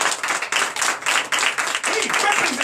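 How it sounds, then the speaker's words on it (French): A church congregation at a Sunday service claps loudly in a strong, regular rhythm, forceful unison beats with a voice rising briefly near the end. "dont je vous demande d'applaudir très fort"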